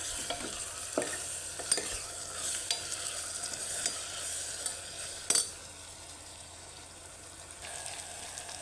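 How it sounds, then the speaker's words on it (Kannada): A spoon stirring spices and turmeric in a pressure cooker pot while cooking broken wheat, soft scraping and a light sizzle with a few sharp metallic clinks against the pot, close and fairly quiet. "ಇದೆಲ್ಲ ಹಾಕಿ ಒಂದು ಒಳ್ಳೆ ಮಿಕ್ಸ್ ಕೊಡೋಣ."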